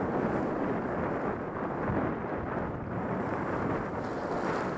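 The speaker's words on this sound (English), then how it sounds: "And the wind is blowing," Steady, heavy wind roars across a snowy outdoor setting, buffeting the microphone with a continuous low rush for the whole stretch, no voices present.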